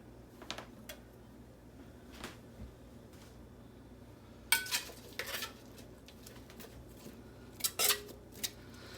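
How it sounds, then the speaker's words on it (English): Turkey patty stir fry being stirred in a pan, faint scattered clinks and scrapes of a utensil against metal, a few sharper clusters of clatter over quiet background hum. "Let's stir it up a little bit."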